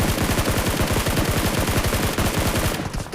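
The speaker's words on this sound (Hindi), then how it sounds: "तभी इन्हीं के टीममेट भाई साहब साइड से गोलियां चला रहे हैं" Rapid automatic gunfire from an AKM rifle in the mobile battle royale game BGMI rattles in a fast, continuous burst, loud and close, then cuts off near the end.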